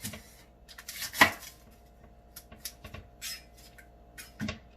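A knife chops through the ends of a small onion on a cutting board, with a few sharp, separate cuts spaced irregularly in a quiet kitchen and no talking.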